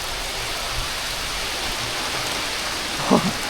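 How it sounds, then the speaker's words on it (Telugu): Heavy rain pours steadily at an ocean park in Pondicherry, a dense, even hiss close to the microphone with a brief low thump near the end and no talk. "చూసారా భయంకరంగా ఇదంతా భారీగా వర్షం పడుతుంది"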